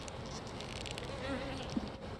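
Honey bees buzz steadily inside an open beehive, a close, continuous droning hum with a slight wavering pitch and no talking.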